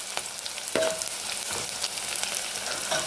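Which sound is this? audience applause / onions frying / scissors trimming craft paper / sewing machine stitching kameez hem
onions frying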